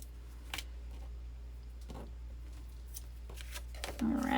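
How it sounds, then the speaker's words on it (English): Scissors snip off a small end of paper with a few quick, close cuts over a steady low hum, with faint rustling handling between them. "Now I'm just going to cut this little end off here"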